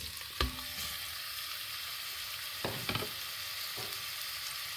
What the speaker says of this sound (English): You want to sear it, you don't want to cook it all the way through.